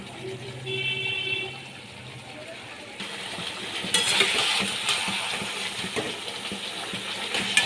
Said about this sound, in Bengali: মাছগুলো দিয়ে দিয়ে ভালো করে একটু কষিয়ে নেব